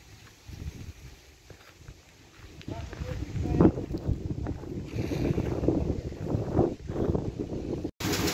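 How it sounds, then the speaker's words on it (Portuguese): Wind gusting hard as a windstorm starts with rain near a mango-tree camping spot in Pontalinda, São Paulo, rising from a low rush into loud buffeting roar with microphone wind noise throughout. "agora tá começando um vendaval e chegou uma chuva estranha, um vento, raio"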